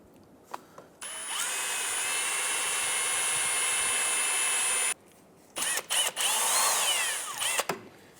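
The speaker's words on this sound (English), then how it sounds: "we're going to use a small drill bit to go through the center of the old sensor here" A small bit on a power drill bores through the plastic of an old rear ABS speed sensor on a 2008-2013 Nissan Rogue, with one long steady whine followed by several shorter, uneven bursts as the bit bites in.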